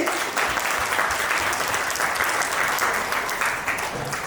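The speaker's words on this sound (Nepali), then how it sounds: "ताली बजाइदिनुहोस्" Wedding guests at a Nepali church wedding ceremony break into loud, sustained applause, a dense wash of clapping hands that carries on steadily throughout.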